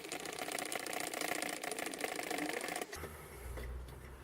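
Fuel stove being hand-pumped to build pressure, a busy mechanical rhythmic clatter for a few seconds that then drops to a lower, quieter rumble.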